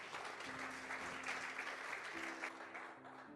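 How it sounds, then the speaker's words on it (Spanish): A church audience applauds steadily after a preacher's call, with dense clapping throughout and a faint held tone underneath. "Dele un aplauso al Rey."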